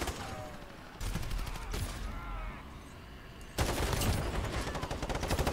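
Video game gunfire rattles in rapid automatic bursts, one near the start and a louder sustained burst near the end, with quieter game ambience and distant shots between.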